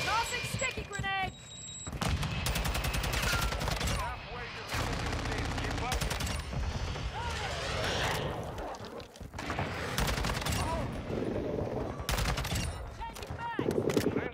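Dense gunfire and sticky-grenade explosions in Call of Duty MW2 multiplayer, near-continuous automatic bursts and booms over a steady loud mix, with someone talking over the action.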